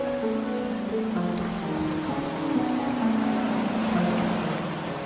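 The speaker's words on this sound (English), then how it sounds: "It rained for 40 days and 40 nights." Rain falls steadily in a dense, even patter for several seconds, with no voices over it.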